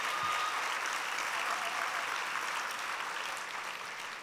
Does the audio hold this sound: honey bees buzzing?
no